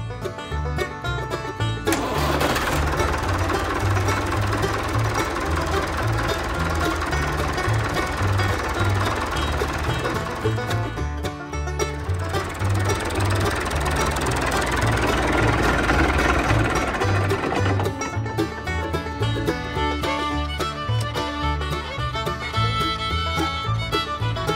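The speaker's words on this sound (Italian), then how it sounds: "Ora accendiamo il motore." A Landini tractor's diesel engine fires up after a brief pause and settles into a loud, steady, clattering idle close by, with a short dip partway through and no talking.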